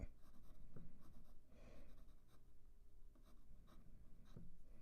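A Tombow 2H graphite pencil scratches steadily across paper during a relaxed drawing session, a soft continuous scraping with slight strokes, close and quiet, no talking.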